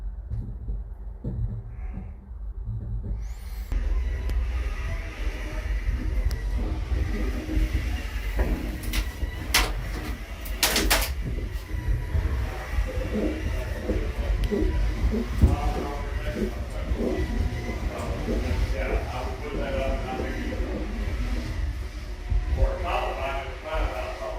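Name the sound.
aerial tram ride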